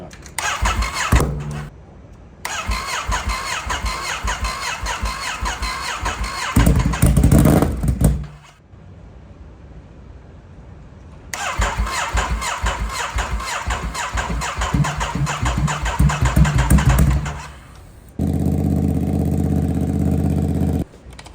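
A Ducati Monster 937 motorcycle engine cranks and fires up, running loudly for several seconds, cutting off, then restarting and running again before settling into a steady idle near the end.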